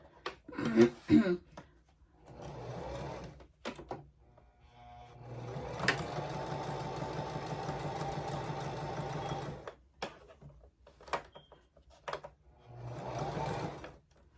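A sewing machine stitches a fabric face mask, running in a long steady burst with shorter bursts before and after, close and fairly loud, with a few brief pauses and some quiet talk between runs.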